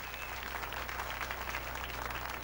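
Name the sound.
applause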